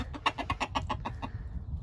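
A rapid series of hen clucks inside a chicken coop, about eight short calls in quick rhythm, close by over a low rumbling background, then fading.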